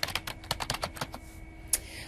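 Keys tapped on a computer keyboard in a quick run of about a dozen light clicks, then a pause and a single later keystroke, faint and close with no talking.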